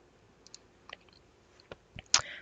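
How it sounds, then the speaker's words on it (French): Computer mouse clicks during AutoCAD work, a handful of sharp, quiet, irregular clicks in a near-silent room. "Vous n'avez plus qu'à cliquer sur chacun et faire supprimer."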